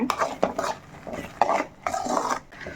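Onions and green chilies are stirred and sautéed in a pan for mutton curry, heard as repeated close bursts of spatula scraping against the pan over a soft frying hiss.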